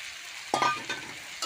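A pan of spices and fried pointed gourd sizzles steadily with a hiss, broken by a few sharp scrapes and stirring clatters close up.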